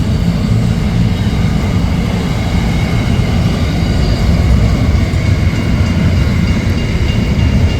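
A long freight train loaded with containers passes over a level crossing in Western NSW, Australia, making a loud, continuous low rumble of rolling wagons that stays steady throughout.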